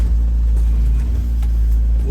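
A Jeep Gladiator Mojave being driven produces a steady, loud low engine rumble, heard from inside the vehicle, with faint road noise and no sharp changes.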